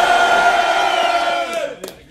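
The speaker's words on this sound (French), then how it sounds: "Faites du bruit pour lui les gars." A crowd at a rap battle roars, cheers and whoops loudly for a performer, a dense wall of voices that fades toward the end with a couple of sharp claps.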